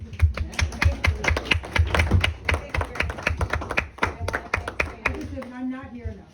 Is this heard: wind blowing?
no